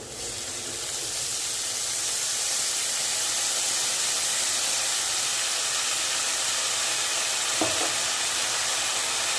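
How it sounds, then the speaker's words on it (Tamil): Green turkey berries sizzle and sauté in oil for a pickle, a dense, continuous frying hiss close up with faint stirring, one brief knock near the end. "எண்ணெய் ஊற்றாமல் நல்லா கிளறி கொடுத்துருங்க நல்லா இது வதங்கி வரட்டும்"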